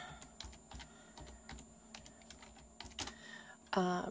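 Typing on a computer keyboard while entering a title for a video file in Windows Movie Maker, with quiet, irregular key clicks close to the microphone and a louder burst of sound at the end.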